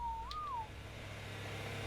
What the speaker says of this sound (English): Also, we got a snow owl over there.